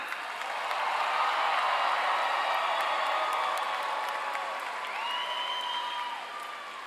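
Graduation ceremony audience applauding the class of 2025, a broad wash of distant clapping that swells and then eases, with scattered whoops and cheers rising over it near the end.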